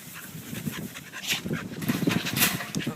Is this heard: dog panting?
yes